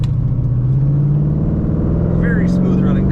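A 1934 Buick Victoria street rod with an automatic transmission runs smoothly, its engine humming loud and close as the pitch rises gently. A brief voice is heard near the end.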